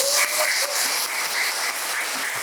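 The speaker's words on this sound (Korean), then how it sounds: "우리 박수 한번 부탁드릴게요" Buddhist temple congregation at a Sunday dharma service applauding on a hot summer day; continuous crowd clapping, moderately loud and steady, with brief voice fragments underneath.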